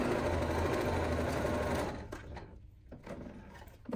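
Sewing machine stitching a nylon bag, a steady loud mechanical whirr for about two seconds, then stopping, leaving quiet room noise with faint handling sounds.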